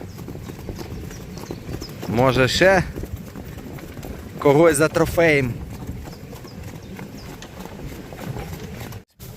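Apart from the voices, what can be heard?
horses walking, hooves clip-clopping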